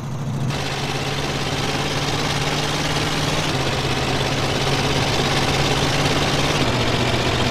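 The worn-out van engine in GTA San Andreas, its block crudely held together and running on old cooking oil, drones steadily at a low, rough idle with a constant hum and faint knocking throughout.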